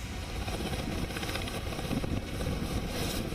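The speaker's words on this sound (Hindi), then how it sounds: "यह है बॉर्डर सिक्योरिटी फोर्स का हेलीकॉप्टर।" A Border Security Force helicopter at a Delhi Police training centre near Najafgarh, a steady droning engine and rotor hum running throughout at moderate distance, with no talk over it.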